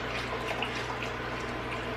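Liquid pours steadily into a pot of tortilla soup, a continuous soft splashing wash that stays even and close throughout.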